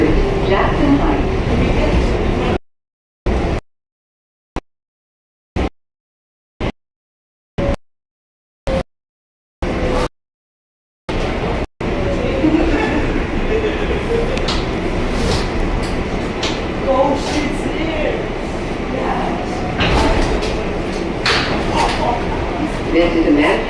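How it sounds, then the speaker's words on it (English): A Manhattan-bound 7 local subway train rumbles and clatters on its way from 82nd Street, Jackson Heights, with steady rail noise and a loud announcement voice over the car, broken by several brief dropouts early on. "This is a Manhattan-bound 7 local train."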